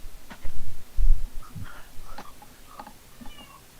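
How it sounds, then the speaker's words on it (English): A cat meows a few times at close range, with short soft calls over a low rumbling background and no talk. "I heard cat"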